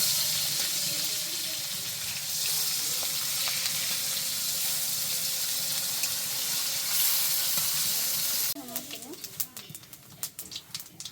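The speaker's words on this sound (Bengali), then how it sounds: "এই যে পাশে তরকারির জন্য মাছগুলা আর কি ভেজে নিতেছে" Fish frying in hot oil for a curry, a steady loud sizzle running for several seconds before it gives way to clattering and shifting handling sounds near the end.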